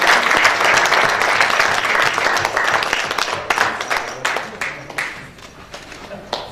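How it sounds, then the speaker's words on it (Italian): Warm audience applause at a book presentation of Sicilian-language poetry, loud and dense at first, then thinning into scattered claps as it dies away. "Un applauso"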